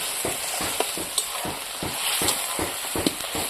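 Homemade yogurt from native cow's milk stirred into sautéed spices for a village-style cauliflower curry: steady loud sizzling and frying hiss with rhythmic scraping stir strokes of a spoon throughout, no voices.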